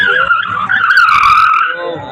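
Porsche car speeding and braking in a driving demonstration at the Auto Expo, with a loud tire squeal and engine note sustained for about two seconds, close and continuous.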